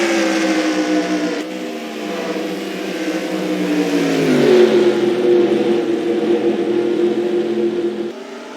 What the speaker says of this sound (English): There you see the 81 car, Steve Park, moving up through the pack.